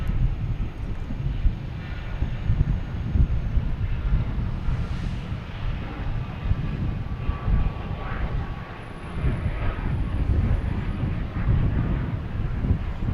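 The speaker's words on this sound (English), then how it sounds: "We have a Hawker taking off, heading to Teterboro." Hawker business jet climbing out from Boston Logan toward Teterboro, a steady broad engine roar with wind buffeting, sustained and fairly loud throughout with no talk.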